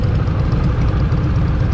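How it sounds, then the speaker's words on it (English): A 2023 Harley-Davidson Nightster Special's Revolution Max V-twin idles close by, a loud, steady low rumble with a quick, even pulsing beat. "Now the Rev Max engine, it's a V-twin"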